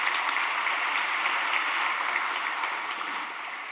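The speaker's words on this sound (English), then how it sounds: "turn to Donna and give her applause" An audience at an evening leadership award gathering gives sustained, evenly dense applause, steady and fairly distant throughout, with no speech over it.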